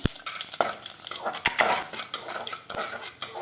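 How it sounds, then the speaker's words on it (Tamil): Whole spices frying in hot oil inside a pressure cooker, giving a steady crackling sizzle with sharp metallic clinks and taps of a utensil against the pot, close and fairly loud, no voices. "இந்த ஹோல் ஸ்பைசஸ் எல்லாத்தையும் அந்த எண்ணெயில் போடுறேன். அது கொஞ்சம் பொரியட்டும்."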